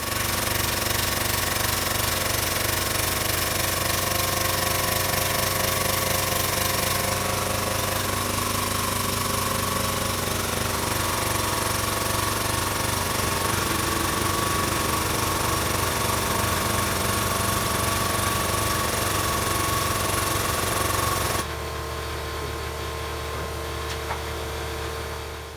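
A pipe bender works on metal tubing, its powered mechanism giving a loud, continuous rattling drone that shifts partway through and then drops sharply to a quieter hum near the end.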